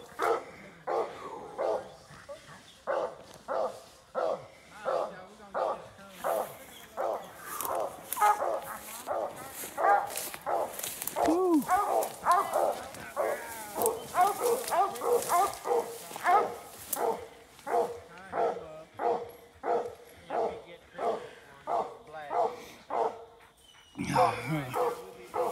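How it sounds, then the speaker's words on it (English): A three-month-old puppy barks in a long rhythmic series of yips and whimpers, fairly close, on a raccoon-hunting outing, with people talking over part of it. "A 3-month-old puppy"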